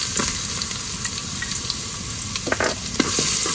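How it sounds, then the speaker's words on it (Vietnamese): Garlic and shallots sizzle in oil in a pot, a continuous close frying hiss with occasional stirring scrapes and clicks. "Mình cho ít dầu được rồi, mình cho tỏi với hành tím vô."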